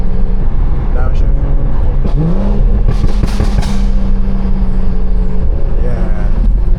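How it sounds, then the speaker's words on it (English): A stage 2+ tuned BMW 340i droning loudly from inside the cabin while driving, with one downshift blipping the revs up into a sustained higher tone before it eases off, and a voice talking over it. "One more downshift."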